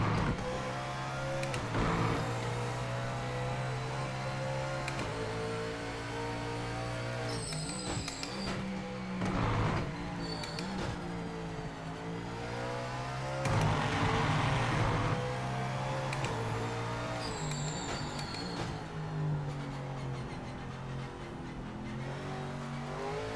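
GT4 race car engine in Project Motor Racing, revving hard under acceleration with throttle blips on downshifts, rising and falling pitch over a steady loud drone, close and continuous with no talk.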